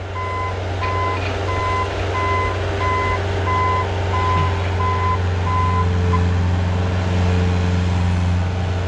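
A Bobcat skid loader plowing snow sounds a regular series of reversing beeps over its steady droning engine, the beeps pausing briefly then resuming, loud and close throughout.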